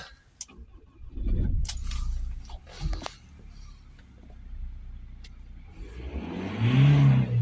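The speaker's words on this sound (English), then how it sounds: "Let's start the van up." A Ford Transit MK8 2.2 RWD van engine with a particulate filter restriction fault cranks and catches, idles briefly, then revs up louder toward the end, with some rattling and clinking sounds early on.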